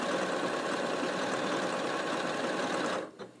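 An Elna 720 PRO sewing machine stitches steadily, a close, even mechanical whir with a fast rhythmic clatter that runs for about three seconds and then stops.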